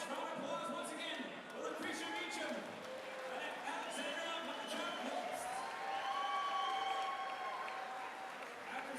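At a boxing event, an arena crowd applauds and cheers two fighters, a sustained wash of clapping and voices mixed with an announcer speaking over it.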